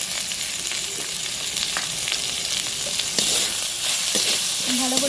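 Chopped tomatoes sizzle and fry in a hot pan for an egg tadka, a steady bright crackle with occasional stirring scrapes and no talk over it.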